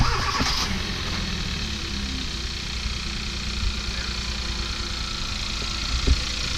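A Hyundai Elantra Sport fitted with a purple cold air intake turns over and settles into a steady idle, its engine a low continuous rumble close by, with no talk.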